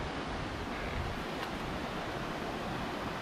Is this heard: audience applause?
no